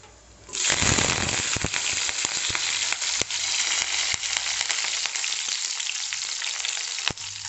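Curry leaves and green chillies hit hot oil with fennel seeds for a white kurma, bursting into a loud, steady sizzle with sharp crackles and pops that continue without talk.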